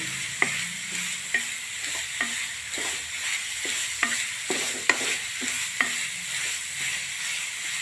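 Finely crushed beetroot roasting in ghee in a pan with a soft sizzle, broken by repeated scraping strokes of a spoon stirring at an uneven rhythm.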